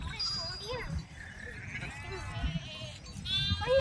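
Sheep bleat in short calls among a flock at a Balumama palanquin procession in a village, set against busy crowd noise and people talking nearby.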